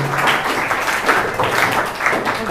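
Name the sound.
audience applause for a presenting group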